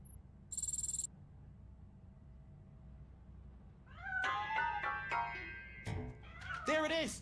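Cat meowing in the video game RoboCop: Rogue City, several wavering meows in the latter half over a quiet background hum, preceded by a brief sharp electronic tone.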